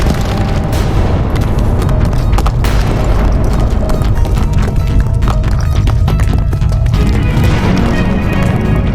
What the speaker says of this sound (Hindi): ये तो पर्वत में विस्फोट हुआ है।